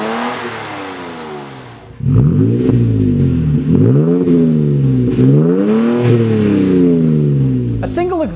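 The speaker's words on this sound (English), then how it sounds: "here's the Flowmaster Flow Effect single exhaust system with a black tip. Here's a clip so you have an idea how it sounds" Toyota Tacoma with a 3.5L V6 and Flowmaster Flow Effect single exhaust with a black tip, revving repeatedly in strong rising-and-falling swells after a quieter idle, loud and close, with no talk.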